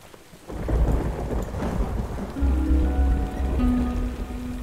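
A thunderstorm in Sword & Sworcery brings steady rain and deep rumbles of thunder that swell partway through, with low booming layers under the continuous patter of the downpour.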